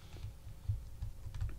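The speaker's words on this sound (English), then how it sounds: "whenever you press whichever key on your keyboard" Quick, light key taps on a QWERTY computer keyboard, an irregular run of soft clicks heard close up in a quiet room.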